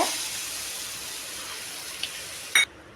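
Water poured from a cup into a pan as the base for the sugar syrup of coconut burfi, a soft continuous liquid stream heard alone, ending with a brief clink near the end.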